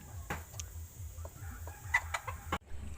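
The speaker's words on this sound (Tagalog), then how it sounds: "Ayan yung yung manok." Chickens cluck nearby in short, irregular bursts, with scattered sharp clicks and knocks, ending in a sudden cut.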